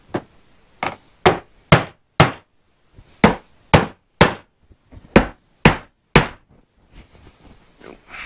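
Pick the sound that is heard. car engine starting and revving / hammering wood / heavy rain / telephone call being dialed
hammering wood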